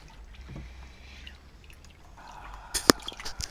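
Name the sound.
water while washing a child in the bath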